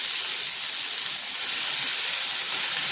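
Finely chopped large onion sizzles in oil on a hot dosa pan, a steady bright hiss that stays even and close throughout.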